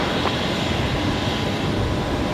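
A Qantas jet on its takeoff roll at Brisbane Airport, a loud, steady, broadband engine roar with a deep rumble, continuous and close throughout.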